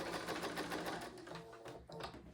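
A sewing machine runs steadily, stitching cotton quilt pieces together, a close continuous mechanical whir with slight dips in speed and no talking.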